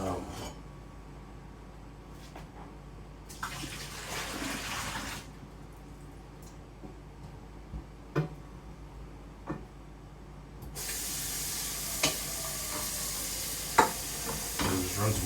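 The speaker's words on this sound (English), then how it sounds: "Run some water into it right now." Water runs from a tap into a dirty pot, a steady loud hiss that starts partway through after quieter kitchen stirring and clatter, close by and continuing to the end.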